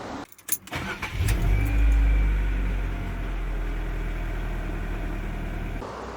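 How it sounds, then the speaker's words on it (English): A Ford Focus MK1 with a 1.8 or 2.0 Zetec engine turns over and catches, then settles into a smooth, quiet, steady idle heard close up. "looking very clean and tidy under here and sounding exceptionally quiet, as all Sigma and Zetec engines sound"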